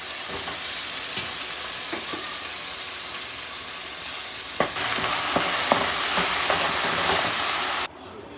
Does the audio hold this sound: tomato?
yes